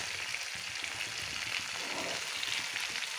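Something frying in oil in a pan, a constant close hiss of fine crackling that holds an even level from start to end with no voices.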